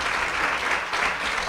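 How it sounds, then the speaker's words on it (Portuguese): An audience applauds continuously for a guest at an interview event, a dense, steady wash of clapping throughout with no gaps. "grande aplauso para o nosso Ilan, que está aqui hoje"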